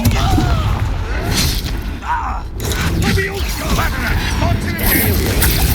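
A Confringo blasting spell explodes amid a battle in Hogwarts Legacy, with dense booms, thuds and mechanical clatter filling the game mix while a voice speaks over the action.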